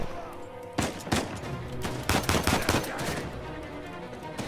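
Enemies open fire in the video game Uncharted 4 with a loud, dense burst of rapid gunshots. Sharp cracks overlap in quick clusters, close and continuous across the whole moment, with no speech.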